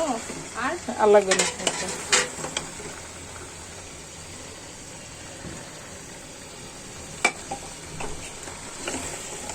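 Spiced beef with potatoes, ginger, garlic, onion, pepper, cloves and cumin paste stirred in a pot, with metal spoon scrapes and clinks early on and a soft sizzle beneath, then quieter with a sharp clink near the end.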